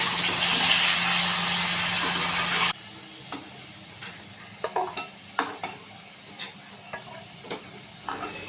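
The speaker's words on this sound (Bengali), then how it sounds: "সো ফার্স্টেই আমি আলুটা লাল লাল করে একটু ফ্রাই করে" Potatoes fry in hot oil for mutton rogan josh, first a loud, dense sizzle for a few seconds, then quieter oil crackle broken by scattered scraping knocks of stirring.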